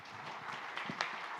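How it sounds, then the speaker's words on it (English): An audience at a panel discussion applauds, a steady patter of many hands clapping at moderate distance, even and sustained for the whole moment. "So give him a round of applause."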